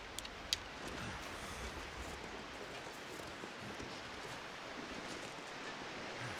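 Steady rushing water of a waterfall in the snowy survival game The Long Dark, a faint broadband wash with no talk.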